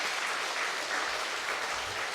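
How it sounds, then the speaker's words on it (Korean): Congregation applauding in a church during a pastor's installation ceremony, a steady, even wash of clapping at moderate distance with no voices over it. "박수하겠습니다."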